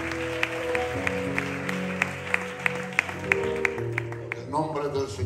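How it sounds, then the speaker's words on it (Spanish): A church congregation claps along at a worship service, with steady rhythmic claps over music, sharp hand strikes recurring through the clip and voices mixed in beneath. "Le damos un fuerte aplauso al Señor"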